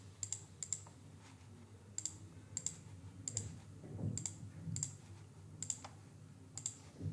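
A series of sharp, crisp mouse clicks taps out at irregular intervals, some in quick pairs, as permission checkboxes are ticked on a computer, close up over a faint low room hum with no talking.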